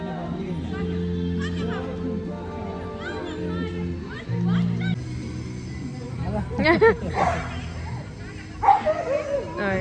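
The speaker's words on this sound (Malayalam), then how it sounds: "ഇപ്പൊ കുറെ ഡോഗ്സ് പുതുതായിട്ട് വന്നുകൊണ്ടിരിക്കുന്നുണ്ട്" Dogs bark and yip in short bursts in a busy dog cafe in Bangalore, with people talking and music-like tones running underneath.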